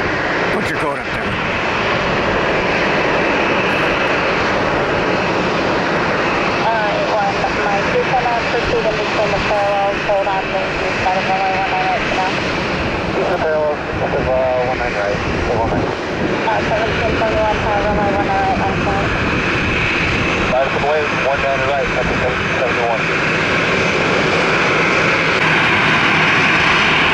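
A low, slow airliner passes overhead near Tampa airport, a loud sustained jet engine roar with whining tones that holds throughout.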